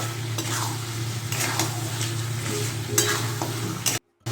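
Chicken kosha is stir-fried in a pan: a steady sizzle runs beneath repeated scraping strokes of a utensil, then cuts off abruptly near the end with no one speaking.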